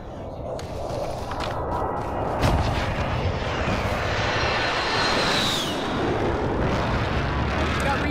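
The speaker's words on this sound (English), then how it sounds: "friendly precision airstrike inbound" Precision airstrike in Call of Duty Cold War Warzone: jet engine roar sweeping overhead with heavy booming impacts and rumbling artillery-like blasts, loud and sustained, while voices talk over it.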